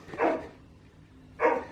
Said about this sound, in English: there's a dog barking in here